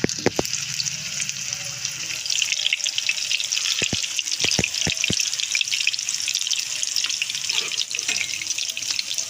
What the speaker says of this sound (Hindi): अब हम इसमें कबाब तलने लगे।